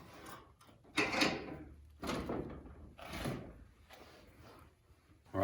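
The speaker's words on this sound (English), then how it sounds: "get you a vise and just clamp the shock down in the" A dirt bike rear shock being clamped into a metal vise, several sliding, scraping and clunking bursts about a second apart, close and moderately loud.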